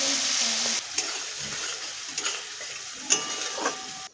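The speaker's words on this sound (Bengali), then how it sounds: "এবার আমি এই মশলাটা তেলের মধ্যে দিয়ে দেবো। আমি গুলে রাখা মশলাগুলো দিয়ে দিলাম।" Ground spice paste hits hot oil with bay leaf, cinnamon, cardamom, clove and cumin, and a loud hiss breaks out at first, then settles into a quieter sizzle with a few stirring scrapes, close and with no talking.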